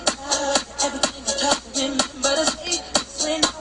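A busy electronic drum loop made in FL Studio, with crisp, overly loud hi-hat ticks over punchy kick thumps, repeating a shuffling rhythm with no voices.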